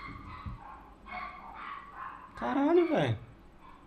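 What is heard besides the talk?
dog barking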